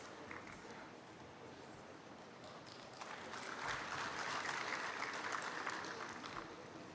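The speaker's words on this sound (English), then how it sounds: "Could we have a huge round of applause for Shri Sarmad Hafiz?" Audience applause at an alumni meet felicitation ceremony, faint and distant at first, then swelling into fuller clapping.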